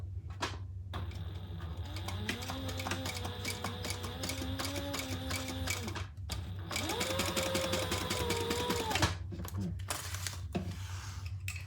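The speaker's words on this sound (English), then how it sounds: "And we're gonna top stitch" A sewing machine top stitches a fabric pouch in two long continuous runs with a steady whirring motor, pausing briefly between seams, close and clear over a constant low hum.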